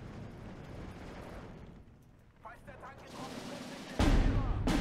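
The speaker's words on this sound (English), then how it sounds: "Oh, the mortars." Mortar fire in the war strategy game Steel Division 2, rumbling detonations that build after a short lull and finish in a sharp, heavy blast near the end, with a player talking over the game audio.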